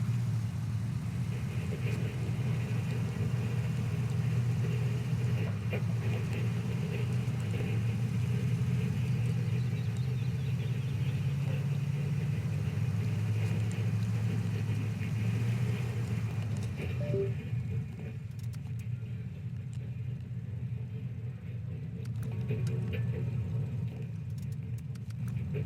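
An off-road truck on deep-groove off-road tires rolling through snow in the video game SnowRunner, a steady low engine drone and rumble that continues throughout, easing slightly near the end.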